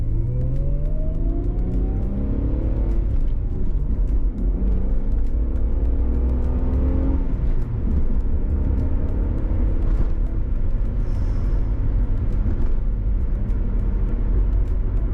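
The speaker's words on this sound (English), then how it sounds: "You can rev this thing up to like 4 or 5, even 6 between shifts. Woo, it sings. Let's hear this." A Mitsubishi Legnum VR-4 Type S accelerates through the gears on a snowy road, its engine climbing in pitch through repeated revving pulls and shifts, loud and steady from inside the cabin with no talk.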